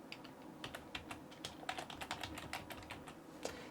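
A username is typed on a computer keyboard as a quick run of light, fairly faint key clicks in an uneven rhythm.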